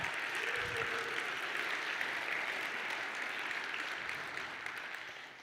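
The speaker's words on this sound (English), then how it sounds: "it deserves a round of applause." A conference audience at a React developer talk bursts into sustained applause, a broad even roar of clapping that stays level before slowly fading toward the end.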